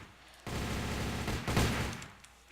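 Rapid automatic fire from the Death Machine gun in a Minecraft guns mod: one dense, loud burst lasting about a second and a half, starting abruptly and cutting off, with quiet before and after.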